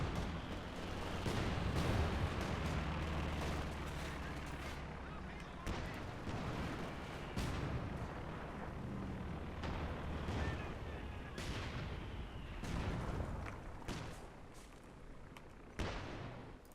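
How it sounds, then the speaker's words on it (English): Howitzer artillery fire in the World War II strategy game Company of Heroes 2, a 4v4 match on the Port of Hamburg map: booming heavy shots and rumbling blasts layered over continuous battle noise, with gunfire crackling throughout. "Howitzer opening fire. Good shots."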